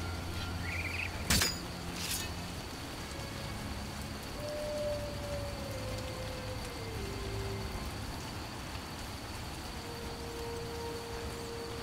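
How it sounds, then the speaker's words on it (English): Steady rain pours throughout a forest in The Witcher video game, a constant hiss with a sharp clink near the start and faint tones drifting beneath. "Look at the beautiful rain."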